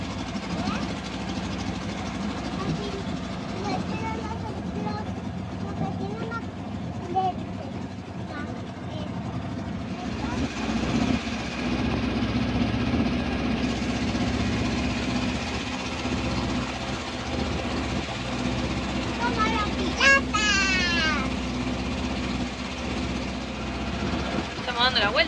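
A motorboat motor drones steadily throughout on a lake, low and continuous, while people talk over it and water noise runs beneath.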